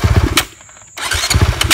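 A 450 pit bike motorcycle engine is heard, with a loud, close, sputtering engine note cutting off briefly and then firing back up into a rough, rumbling run, with no voices.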